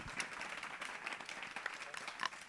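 Scattered applause from a conference audience at a culture forum panel, fairly faint and distant, with uneven claps rather than a full ovation.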